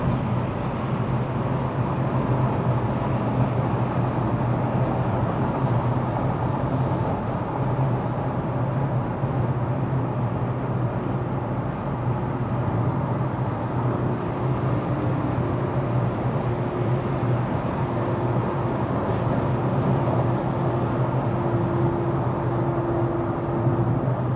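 A tiny Fiat cruises in sixth gear at 120 on a Belgian road, giving a constant engine drone mixed with road and wind noise. The sound is steady and fairly loud and does not change in pitch throughout.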